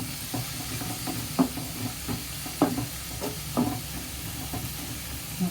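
Masala sizzling and frying in a pan for egg tomato rice, a steady hiss with periodic scraping stirs of a spatula, close and continuous with no talk.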